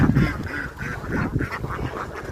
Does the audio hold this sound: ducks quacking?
yes